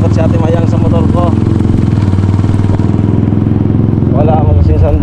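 Motorcycle riding, a steady close engine hum with a rhythmic clattery pulse running throughout, while people talk over it.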